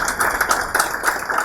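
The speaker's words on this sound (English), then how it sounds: "big round of applause" Applause breaks out for a panel at a startup event, a steady wash of clapping from a crowd with no voices over it.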